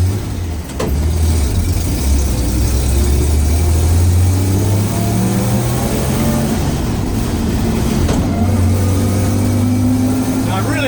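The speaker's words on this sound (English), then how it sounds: "there's a tractor coming" A tractor engine rumbles past at close range on a rural property, its deep mid-pitched drone rising and falling steadily and changing pitch as it approaches and moves by.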